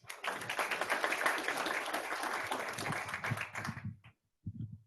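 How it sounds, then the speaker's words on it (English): Audience applause at a school board meeting, a dense, sustained round of clapping from a crowd that fades out near the end, followed by a brief voice. "Let's give them another huge round of applause, gentlemen."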